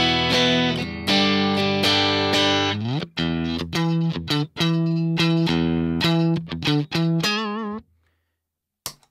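Electric guitar with a clean tone, run through a CNZ Audio fuzz pedal setup, plays loud, close strummed chords and picked notes in a rhythmic phrase, then rings out and stops near the end.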